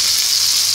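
Spice paste sautéing in a frying pan for an eggplant dish, a steady close hiss of sizzling oil with no voices.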